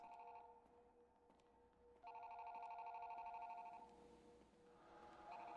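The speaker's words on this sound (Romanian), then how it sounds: "Hei, sună telefonul." A telephone rings in repeated electronic bursts in the video game Five Nights at Freddy's 2, a long ring in the middle and shorter ones at each end, over a faint low hum.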